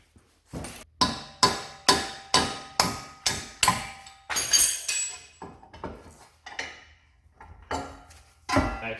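Metal-on-metal knocking while a pry bar works a Honda Civic front axle loose during a suspension rebuild: a rapid series of about a dozen sharp, close clanks, evenly spaced at first, then irregular hits.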